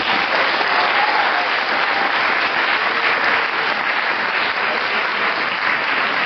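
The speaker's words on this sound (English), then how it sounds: "One final applause for everyone in this debate." Audience applauding at the close of a bridge tournament's gold final debate at EurOpen 2025: a steady, dense wash of clapping from a large room, loud and even throughout with no voices standing out.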